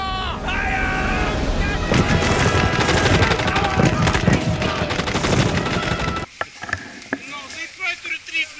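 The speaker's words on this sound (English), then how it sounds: "This Arthos will be shot! Fire! Fire!" Sustained gunfire volley from a military video game roars loudly and continuously for several seconds with shouting over it, then drops away to a few scattered, sharper shots.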